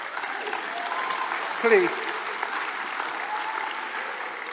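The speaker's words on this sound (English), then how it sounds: "The clap is really for those people." An audience at a scholarship awards ceremony applauds steadily and fairly loudly, while a speaker's voice briefly cuts through the clapping.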